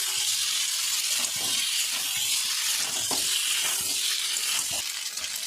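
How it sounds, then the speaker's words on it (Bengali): Fried potatoes and taro sautéing in a pan for a Bengali rui fish curry, a steady loud sizzle with scraping stir strokes throughout and no voices. "আমি এখন ওই ভেজে রাখা আলু আর কচু দিয়ে দেবো। ভালো করে আরেকটু কষিয়ে দেবো।"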